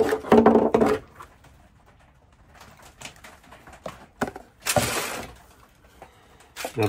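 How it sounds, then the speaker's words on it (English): Small pieces of plastic being chopped even smaller for recycling, a run of sharp, crisp crunching and snapping bursts with quiet gaps between them, close and fairly loud, with no talking. "so I thought I'd chop them up even smaller"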